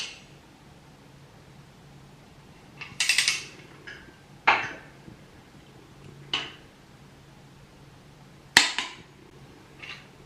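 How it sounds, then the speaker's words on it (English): A torque wrench brings engine block bolts up to full torque on a Honda Civic LS VTEC build: a handful of sharp, separate metallic clicks and clacks a second or two apart, close and fairly loud over a quiet background. "now we are on 76 Newton meters, and just gonna take the full torque now"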